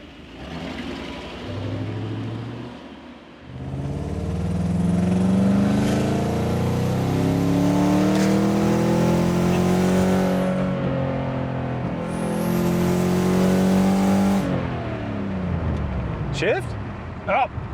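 A Mercedes 500E engine revs and accelerates hard from inside the car on a test drive, a loud sustained roar rising in pitch through two long pulls with a brief gap, as voices talk over it.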